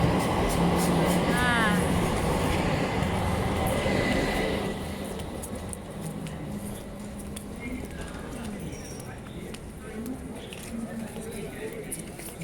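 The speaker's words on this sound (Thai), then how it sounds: "มาแล้ว มาแล้ว รถไฟฟ้า" An electric train arriving at a station in Turkey: a loud, rumbling rush of rail noise that fills the first half and then eases to a quieter, steady hum and rattle, with people talking throughout.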